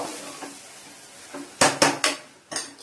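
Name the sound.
ivy gourd frying with gram flour in a pan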